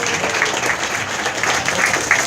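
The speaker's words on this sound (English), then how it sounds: "Applause, that's right." Audience at a donkey show at Lion Country Safari in West Palm Beach, Florida, giving brief, continuous applause, a steady mass of clapping throughout.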